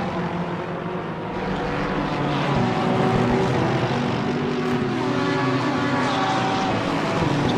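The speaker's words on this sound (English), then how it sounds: "just wait for all the cars to go past." Race cars streaming past on the Nordschleife in Assetto Corsa Competizione, a dense steady engine roar with droning whine overtones that swells slightly as the field passes, loud and continuous without talk.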